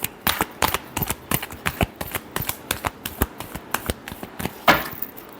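A deck of tarot cards being shuffled by hand close up, a brisk series of sharp papery riffles and taps in an uneven rhythm, ending with a slightly louder flourish, with no talking.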